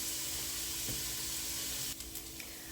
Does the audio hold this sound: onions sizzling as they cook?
yes